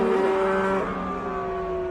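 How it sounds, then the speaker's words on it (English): IndyCar race cars on track, including an Ed Carpenter Racing car, with a steady engine drone that holds strong tonal harmonics and shifts pitch partway through as a car passes, continuous and fairly loud with no talk. "Good to hear the sound of race cars and Indy cars specifically once again."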